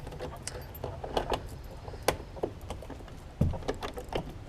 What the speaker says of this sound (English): Let me get my keys out real quick.